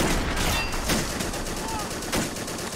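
Marines firing on an enemy gun crew in the Men of War World War II game, steady rifle and machine-gun fire with scattered louder shots, a voice talking over the din.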